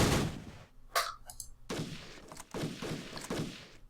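Bursts of gunfire from units firing in the World War II tactical board wargame Tigers on the Hunt: a sharp opening shot, then several loud, rapid volleys in quick succession, with brief whistling tones between them.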